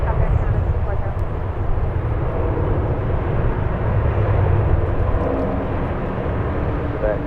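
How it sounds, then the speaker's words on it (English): An airliner takes off from a runway at San Francisco International Airport, a loud continuous low engine roar that holds steady throughout, with faint radio chatter underneath. "Super takeoff there, Canada 240."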